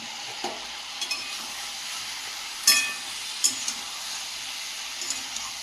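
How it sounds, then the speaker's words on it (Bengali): Vegetable chorchori sautéing and being stirred in a pan, a steady soft sizzle with a few scraping stir strokes, one sharper clatter near the middle, close and moderately quiet with no talking. "চচ্চড়ি সবজিটা ভালোভাবে কষিয়ে নিয়েছি"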